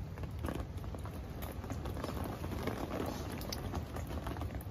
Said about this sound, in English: It's very rainy and squally and windy.